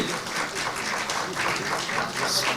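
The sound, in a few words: loud applause welcoming the Chief Minister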